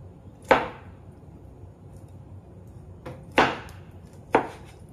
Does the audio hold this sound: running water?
no